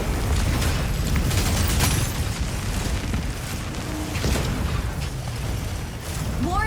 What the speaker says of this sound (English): Explosion in the elevator's midsection. Garrison's lower section disintegrating.